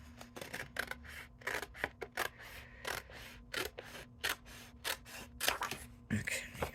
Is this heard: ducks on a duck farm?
no